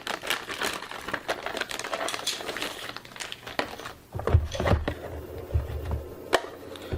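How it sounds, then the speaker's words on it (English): Packaging of a Netgear WiFi 6 access point crinkles and rustles close up as it is unwrapped, with scattered crackles, taps and thumps of handling. "So let's unwrap the access point."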